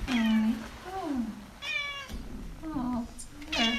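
A cat meows repeatedly nearby, several drawn-out, wavering cries in a row, with faint background noise between them.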